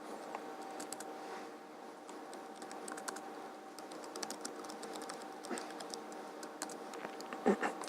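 Steady, fast typing on a computer keyboard, with quiet, continuous key clicks as someone writes a Docker file, slightly distant, with no speech.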